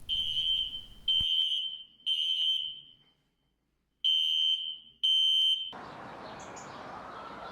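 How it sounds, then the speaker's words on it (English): A hotel fire alarm sounds loud, close and shrill, beeping in five sharp, evenly spaced bursts with one longer pause, then gives way to a steady hiss. "In every hotel, there will be a fire alarms and sprinklers"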